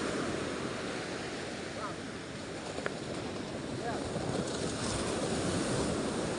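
Ocean waves washing onto a beach: a continuous rushing surf wash with wind noise, moderately faint and steady, with faint voices mixed in.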